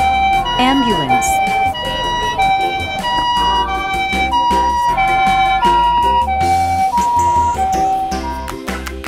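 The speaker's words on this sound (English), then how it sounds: "Ambulance" A toy ambulance plays a loud, close electronic siren, a repeating two-tone wail that runs continuously, with a voice speaking over it at times.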